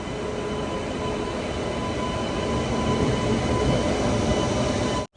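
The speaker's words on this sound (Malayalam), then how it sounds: "ലോണ്ട മിറാജ് വണ്ടി ഇതാ ഇവിടെ നിന്ന് എടുത്തിട്ട് പോവുകയാണ്." The Londa–Miraj passenger train departs Belagavi station, rumbling steadily with constant broadband noise and faint tonal hums, close and loud throughout, cutting off abruptly at the end; no voices.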